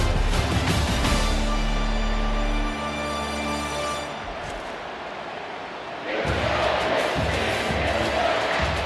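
A roaring stadium crowd in the College Football 25 video game, during an Oregon versus Michigan matchup, fills the scene with a loud, continuous din that dips briefly midway before swelling back up again.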